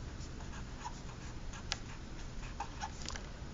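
A pen scratches faintly as an equation is written out by hand, giving soft, intermittent strokes and small taps over a quiet background hiss.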